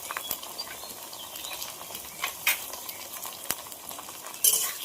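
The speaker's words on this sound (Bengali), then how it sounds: "ভালো করে কষে নেব।" Garlic paste with cumin, coriander and dried chilli paste stir-fried in oil in a pan, a quiet steady sizzle with scattered scrapes and taps of a spoon, a few louder clicks near the end.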